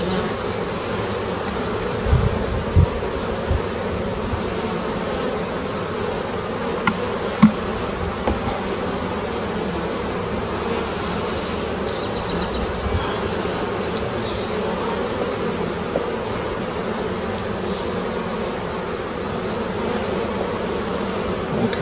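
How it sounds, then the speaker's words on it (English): Italian honey bees buzzing in a dense, continuous drone during an open hive inspection in July, loud and close with a few louder bees passing near, no talking. "Okay, frisky bees."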